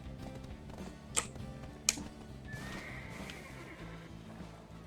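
Horses in the video game Black Desert Online give two sharp, bright whinnies about a second apart, followed by a fainter drawn-out neigh over a low background of game ambience and soft hoof sounds.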